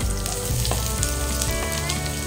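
Onion sizzles loudly and continuously in oil and butter in a pan, a dense close-up frying hiss with faint crackles and no voices.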